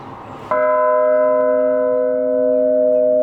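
Massive church bell swung by pulling and releasing its rope, a single loud, close strike with a rich ringing tone that sustains and slowly decays.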